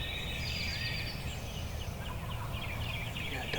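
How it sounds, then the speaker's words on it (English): A group of at least three wild turkeys on a Tennessee farm gobble together at a distance, their rattling calls overlapping faintly over a low outdoor rumble. "It's at least 3 of them gobbling together."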